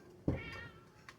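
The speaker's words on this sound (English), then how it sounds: "That cat's about to drive me crazy." A cat lets out one short meow near a kitchen stove, faint and close, over low background hum with a small clatter afterward.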